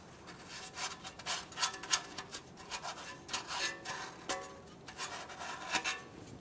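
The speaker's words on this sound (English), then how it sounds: "we'll use a piece of fine sandpaper, clean our mounting point right up along the top of the manifold there" Fine sandpaper rubs back and forth on the O2 sensor mounting point atop the exhaust manifold of a 2011-2020 Toyota Sienna 3.5L V6, giving a rhythmic, scratchy rasp of quick strokes, close and alone.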